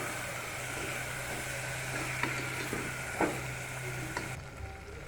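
Soaked, washed rice frying in a pan gives a steady, close hiss of sizzling oil with a few faint stirring clicks before the sound cuts off abruptly.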